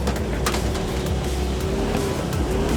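A 4WD engine pulls through rough high-country terrain near Howitt Hut in Victoria, steady and fairly loud with a continuous low rumble and slight rises and dips as throttle is applied and eased, no voices.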